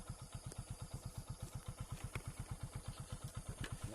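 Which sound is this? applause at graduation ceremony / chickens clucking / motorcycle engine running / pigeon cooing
motorcycle engine running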